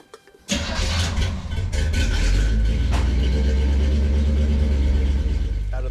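A 1976 Chevy Squarebody truck, freshly fitted with new shocks and refreshed leaf springs, starts up abruptly after a brief quiet moment. Its engine then runs with a steady, loud, low rumble.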